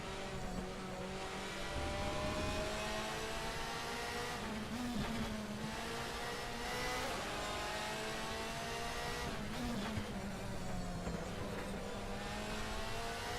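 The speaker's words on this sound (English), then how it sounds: "The engine, as you come off the gas, is one that goes into lower revs." A DTM touring race car engine in a racing simulation game revs continuously, rising and falling in pitch with gear changes and deceleration, loud and steady throughout without any talking.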